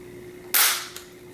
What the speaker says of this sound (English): If you dry fire the gun,